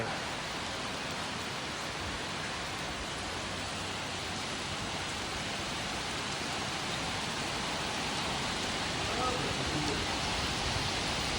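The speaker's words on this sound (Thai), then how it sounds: "แต่ว่าฝนตกครับ" Steady heavy rain hissing continuously on surfaces nearby, a dense broadband wash of sound with no pauses throughout.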